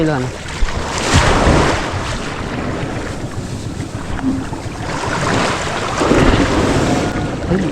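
Ocean waves slosh and surge around a small boat struggling to land, with heavy wind buffeting the microphone in rolling gusts, loud and close throughout.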